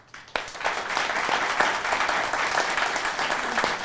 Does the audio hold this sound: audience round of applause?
yes